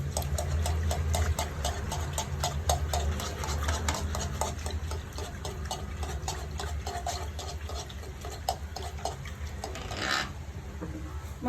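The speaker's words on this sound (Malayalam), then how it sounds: "ഇത് നന്നായിട്ടൊന്ന് ബീറ്റ് ചെയ്യാം." Caramel pudding mixture beaten steadily in a bowl, giving a fast, even run of tapping clicks over a constant whirring hum, close and continuous.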